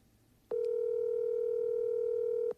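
A steady telephone dial tone sounds alone for about two seconds as a call is placed, starting and stopping abruptly with a faint click at each end.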